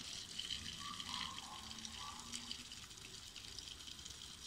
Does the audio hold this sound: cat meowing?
no